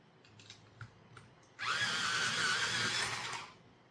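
A pencil sharpener grinds a coloring pencil in one continuous whirring burst of about two seconds, following a few light taps and clicks.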